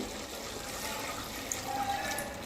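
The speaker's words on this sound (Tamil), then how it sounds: "இப்போ நான் தண்ணி ஊற்றிக்கிறேங்க" A steady, soft stream of water pouring into a pan of sautéed mint chicken curry, continuous and fairly faint, with a light trickling texture.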